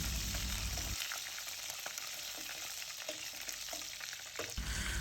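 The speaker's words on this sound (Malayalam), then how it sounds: "കുറച്ച് വെളിച്ചെണ്ണ വയ്ക്കുക കുറച്ച് കടുക് പൊട്ടിക്കുക" Quiet crackling and popping rise from hot coconut oil as mustard seeds splutter, sharp little snaps scattered over a soft steady sizzle.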